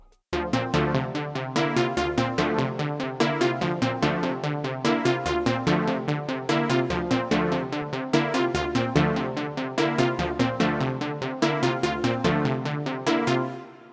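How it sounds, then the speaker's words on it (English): Plucky arpeggiated synth loop from a Repro 5 Synthwave Poly 80s preset for a hard melodic beat, with quick bouncing notes running continuously and evenly throughout, upfront and without voices. "So that MIDI with this preset is going to sound like this."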